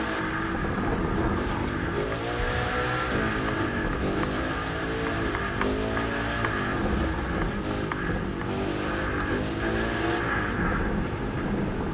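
A Koenigsegg Jesko engine in the video game The Crew 2 drones and revs continuously, rising and falling in pitch with gear changes, loud and steady with no talking.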